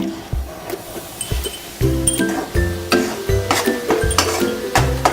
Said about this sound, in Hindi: इसी घी में हमने ये 1 कटोरी आटा लिया है, छोटी कटोरी फुल, इसको भी भून लेंगे।